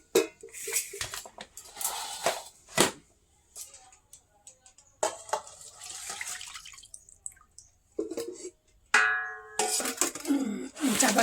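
Metal pot lids clink and clatter onto cooking pots of freshly made vegetarian curry in a home kitchen, a run of sharp intermittent clanks with brief ringing tones, mixed with faint water and dish sounds.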